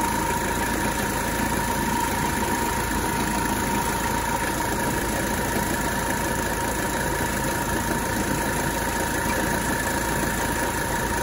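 A 1985 Mercedes 300TD diesel engine idles with its AC compressor running, giving a loud, steady, close drone with a constant whine over it for the whole stretch, and no one speaks.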